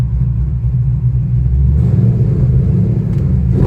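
Fifth-generation Camaro LS engine on an MSD two-step launch control, heard from inside the car as a loud, steady low rumble that swells as the revs are held.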